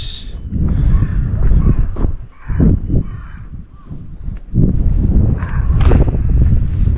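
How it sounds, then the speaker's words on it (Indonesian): Crows caw repeatedly at a beach in Japan, harsh calls scattered through steady wind noise and occasional footsteps, some calls near and loud, others farther off. "Elang, gagak di sini ya."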